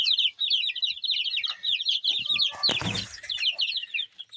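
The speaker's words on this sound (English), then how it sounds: "I've got some golden comets, I've got some Rhode Island reds, and I've got some Easter eggers in there" A brooder full of baby chicks, golden comet, Rhode Island red and Easter egger breeds, peeps in a constant high chorus at close range, with brief rustling and scratching in the middle.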